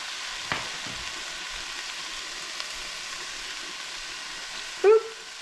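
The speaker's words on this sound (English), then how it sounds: "I'm going to add the onion right to the meat." Ground meat with onion added sizzles steadily in a frying pan for lasagna, a soft continuous hiss with a faint clatter early on and a brief tonal beep near the end.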